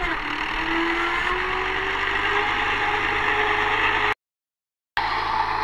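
A New Holland Dabang 85 tractor engine idles with a steady, close mechanical drone and a faint rising whine, cut by a brief total dropout before the idle resumes.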